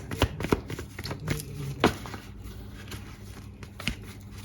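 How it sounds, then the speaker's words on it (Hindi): Tarot cards are shuffled by hand, giving a string of crisp riffling and slapping sounds at an uneven pace, near and fairly loud, with no talk over them. "One more shuffle, thank you."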